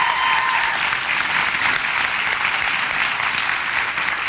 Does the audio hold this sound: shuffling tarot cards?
no